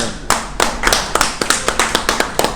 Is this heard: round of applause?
yes